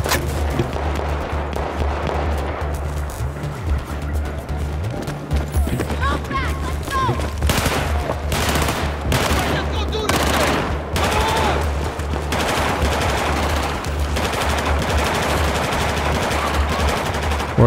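Rapid automatic gunfire and bursts of shots rattle through an urban combat match in Battlefield 4, loud and nearly continuous across the clip, with a player talking over the shooting.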